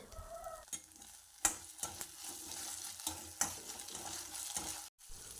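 Onion, chilli and ginger-garlic paste fry in hot oil for an egg chicken Maggi masala, a quiet continuous sizzle with scattered scrapes and taps of a spoon stirring the pan, fairly faint and close.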